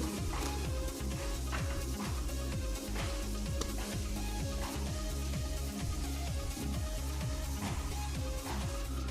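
A pot of kuzhimanthi cooking liquid bubbling at a steady rolling boil, with a continuous dense sizzle and repeated low burbling pops close by throughout, no talking.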